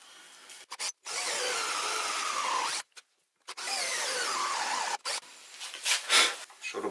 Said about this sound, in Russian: Шуруповерт слабоват для дуба.